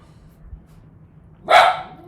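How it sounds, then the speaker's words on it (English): A single dog gives one short, loud bark after a quiet stretch, close to the microphone and alone. "Sorry, my dog is barking now."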